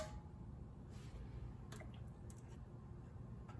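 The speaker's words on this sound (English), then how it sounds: "I'm putting the sauce down first so that our pasta doesn't stick to the pan" Tomato sauce is spooned into a large roasting pan with a few soft wet squishes and drips, quiet and close over a low background hum.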